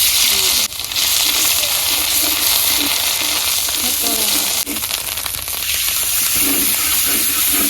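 Onion paste frying in a pan gives a loud, continuous sizzle and hiss with faint stirring scrapes throughout.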